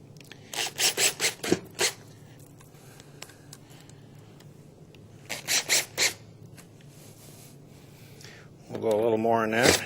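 Screws driven into a wall to mount a shelf bracket, heard as two bursts of short, rapid drill pulses a few seconds apart, followed by a longer steady whir near the end.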